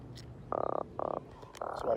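A freshly caught croaker fish gives short repeated croaks, two close buzzy grunts followed by a longer third, near and fairly loud with no talk.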